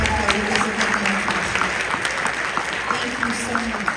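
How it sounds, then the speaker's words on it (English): Audience applause at a professional leadership conference, a dense, close patter of hand clapping from a seated crowd that stays steady, with a speaker's voice partly heard over it. "So let's just give a big round of applause and a thank you to everybody that's helped out with this"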